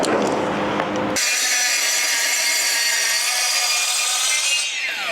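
A power saw cuts through composite decking on a house-building site, a loud, steady, harsh whine that holds for several seconds after a brief start and then trails off, with no talking.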